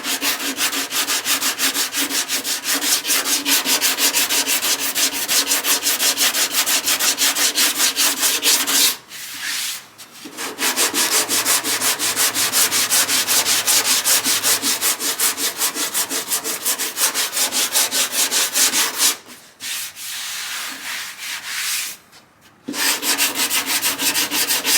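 Body filler on car bodywork is sanded by hand with steady, rapid back-and-forth rubbing strokes, loud and close, pausing briefly twice before resuming with no talk.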